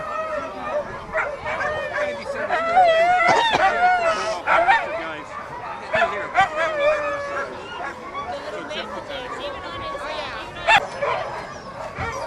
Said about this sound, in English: the reason the dogs are barking because they want to run.